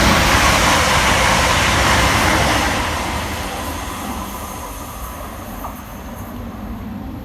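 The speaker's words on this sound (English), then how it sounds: "Passing fast through the station next is 380-116, working 1K21 for Scotrail from Glasgow Central through to Ayr." A Scotrail Class 380 electric train, unit 380-116, runs fast through a small station on the Ayrshire Coast Line, a loud close roar of wheels and rushing air that gradually eases as it goes past.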